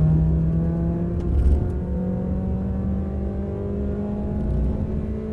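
A car engine on a race track straight pulls hard toward top speed, a loud, continuous near drone whose pitch climbs steadily, with no voices over it.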